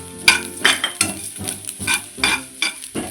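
Small onions and spices are sautéed in a pan, with a spoon stirring and scraping against the metal in a steady rhythm of about eight strokes over a soft sizzle, close and clear, with no talking.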